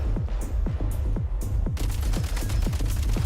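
A video game firearm shoots repeatedly, roughly evenly spaced loud shots each followed by a short ringing tail, close and prominent with little else around them.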